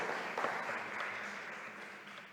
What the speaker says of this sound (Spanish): Le damos un aplauso a él por esa grandiosa enseñanza de hoy.